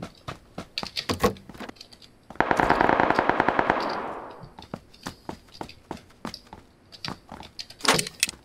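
A burst of rapid automatic gunfire rattles for about two seconds, loud and close, framed by scattered sharp single shots and clicks before and after.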